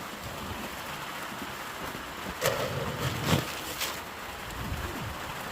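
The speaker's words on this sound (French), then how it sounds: "il pleut de plus en plus fort là" Steady rain hisses across the whole stretch, with a few sharper splashes or knocks standing out midway.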